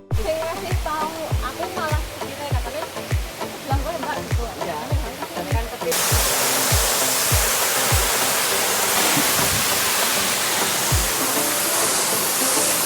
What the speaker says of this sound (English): now we have arrived to the waterfall